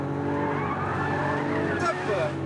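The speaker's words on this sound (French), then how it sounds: "Dernier virage, dernière accélération avant la ligne d'arrivée." A carbon-chassis race car accelerates hard out of the final corner of a track at a Las Vegas racing base, engine roaring steadily up close with a brief tyre squeal near the end, and a voice talks over it.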